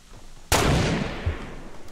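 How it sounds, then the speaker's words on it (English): A single loud sniper rifle shot in Fortnite cracks out suddenly, then a long, rumbling decay trails off over the next second or so. "I hit him with a sniper."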